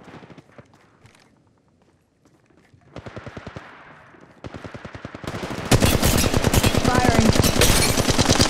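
Video game battle royale gunfire starts quiet and sparse, then builds into dense, loud automatic bursts that grow closer and more intense, ending in a sustained barrage.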